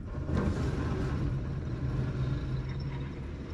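A 2023 Subaru Forester Wilderness accelerating from a standstill on a traction test rig, a low steady engine drone with a muffled rumble that holds without breaks.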